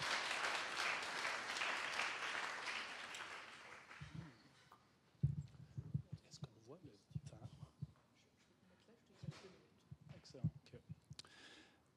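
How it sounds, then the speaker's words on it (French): Dense applause from an audience fills the first few seconds, then fades out as a person starts speaking. "Une main d'applaudissement, s'il vous plaît."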